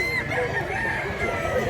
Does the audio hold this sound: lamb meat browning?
no